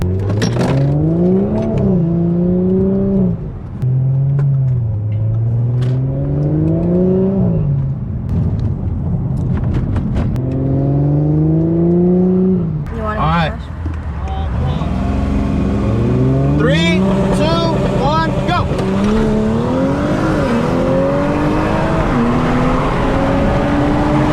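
A Stage 2 Audi S4 B9.5 revs hard and upshifts repeatedly in a race against a new, stock Audi RS7, the engine note rising and dropping in loud, close sweeps with voices talking over it.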